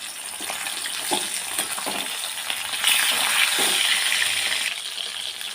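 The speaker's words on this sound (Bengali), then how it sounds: "মাছ ভাজা হয়ে গেছে নামিয়ে নেবো" Rohu fish pieces fry in hot oil, giving a close, continuous bright sizzle with a few soft knocks and stirring sounds throughout.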